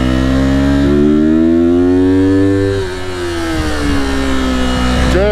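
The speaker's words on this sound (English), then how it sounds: "Get some heat in the tire with some heavy braking." A car brakes hard to heat its tires while its engine drones loud and close throughout, pitch sliding down, dipping briefly, then rising again.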